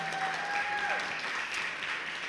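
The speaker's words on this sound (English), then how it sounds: "And please applaud for their work." Applause from the audience at a county commission meeting for standing task force members, a moderate, even wash of clapping heard from a distance inside a hall, with a faint voice and a tone briefly audible underneath.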